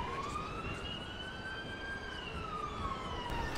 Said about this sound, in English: And I can see the ambulance in distance right now.